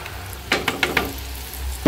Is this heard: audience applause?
no